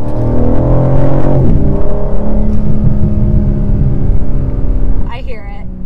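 2023 BMW M4 Competition engine and exhaust drone loudly from inside the cabin with a deep steady rumble and rising revs, continuous for the whole stretch, with a voice briefly audible near the end.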